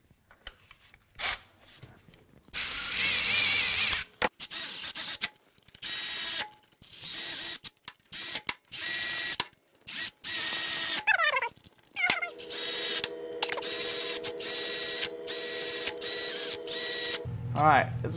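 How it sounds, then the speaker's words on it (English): Bolts on the parking brake of a Porsche 911 996 are tightened with a ratchet, making rapid clicking pawl bursts that repeat up close with short pauses between them. "We just have to put the bolts in."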